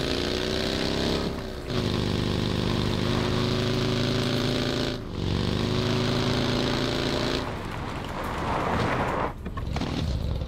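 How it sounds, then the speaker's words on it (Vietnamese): Motorcycle engine idling in PUBG, a steady, loud harmonic drone with brief dips and a revving surge near the end, with no talk over it. "Lấy xe máy ở đây này."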